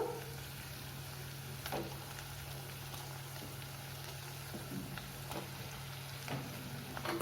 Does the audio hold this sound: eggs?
yes